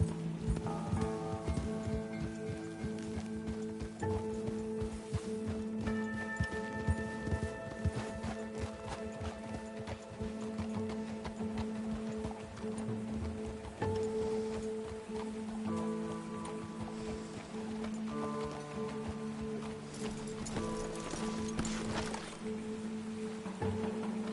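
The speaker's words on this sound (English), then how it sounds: "Control your horse, Arthur." Horse hooves clip-clopping steadily in Red Dead Redemption 2, a continuous rhythmic patter under a rain-like hiss and layered game music, with a brief voice now and then.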